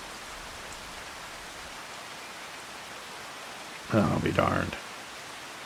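Steady rain falls across the Farming Simulator 25 game world as a continuous broadband hiss, with a brief burst of someone talking near the end.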